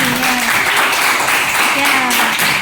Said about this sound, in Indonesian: Yuk, tepuk tangan sekali lagi.